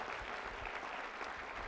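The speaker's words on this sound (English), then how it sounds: "that deserves applause" Applause at a university convocation ceremony, a steady dense clapping from a large audience that holds evenly throughout without pauses.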